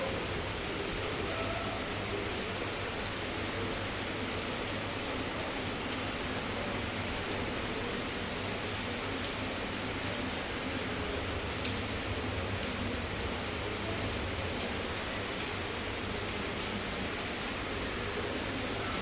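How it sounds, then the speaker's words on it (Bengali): Rain pours down in an unbroken, dense hiss, constant in loudness throughout, with nothing else standing out. "বৃষ্টি পড়ে বৃষ্টির শব্দ খুব সুন্দর ভালো লাগে শুনতে"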